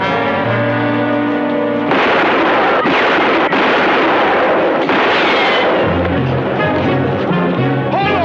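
Gunfire from a shooting act in a 1960s Western, loud broadband bursts crashing in after an opening stretch of music, several sharp cracks and blasts running for several seconds before the music resumes.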